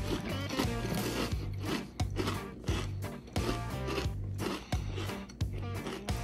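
Someone chews a big mouthful of spicy smoked Chex mix close up, with a rhythmic series of loud crunches about every half second and no talk.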